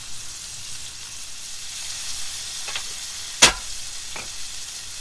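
Chorizo frying in a pan gives a soft continuous sizzle with faint crackles, broken by one sharp loud pop partway through and a couple of smaller spits.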